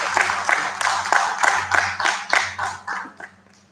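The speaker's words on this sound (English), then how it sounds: "A big round of applause to Miss Malavika" A seminar audience claps after a valedictory address, a modest gathering giving a fairly small round of distinct, rhythmic hand claps that thins out and fades over a few seconds.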